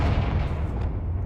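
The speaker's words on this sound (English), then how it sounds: "Confringo!" Confringo fire spell blasting in Hogwarts Legacy, a loud, dense burst of rumbling low-end roar that stays heavy and sustained through the short moment, with no talk over it.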